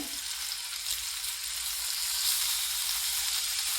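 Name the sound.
meat sizzling in a hot pan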